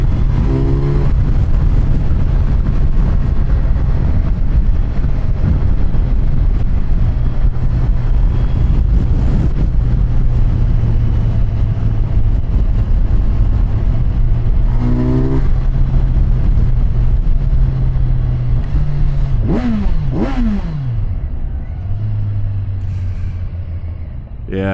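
A Kawasaki Versys 1100 motorcycle pushed hard through second and third gear up to 10,000 RPM, its loud engine note climbing and shifting under heavy wind buffeting on an open road.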